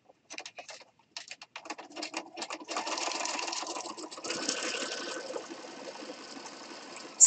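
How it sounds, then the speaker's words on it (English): Brother sewing machine stitching fabric: short stop-start bursts of rapid needle chatter, then a longer continuous run of fast whirring stitches, close and moderately quiet, ending with a sharp click. "I like my little brother sewing machine."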